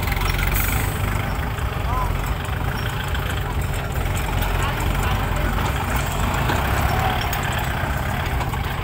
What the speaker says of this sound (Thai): รถไถทำงานอีกแล้วครับ